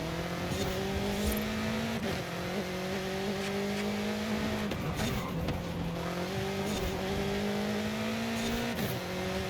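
BMW M8 GTE race car in Forza Horizon 5, its engine droning loud and continuous with rising pitch through each gear and sharp drops at the shifts, alone without talk.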